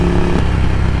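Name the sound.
Ducati Scrambler motorcycle with Vance & Hines exhaust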